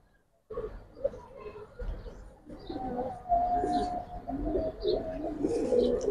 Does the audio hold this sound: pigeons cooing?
yes